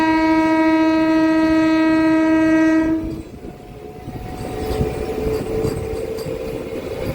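A MEMU local train from Bhimavaram to Machilipatnam sounds a long, loud, steady horn for about three seconds, then the rumble and rhythmic clatter of the running carriages carries on.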